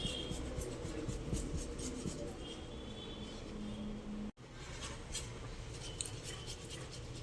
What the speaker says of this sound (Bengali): টমেটোটাকে আমি এরকম করে ঘষে নেব যাতে টমেটোর চোপাগুলো মাছের মধ্যে না যায়